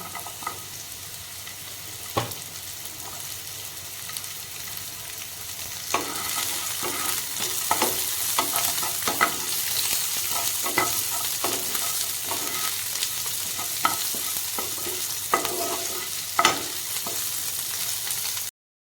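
Garlic, ginger, green chili and onion sizzle steadily in a pan for a chili soybean dish, with scraping stirs and occasional spoon clinks against the pan.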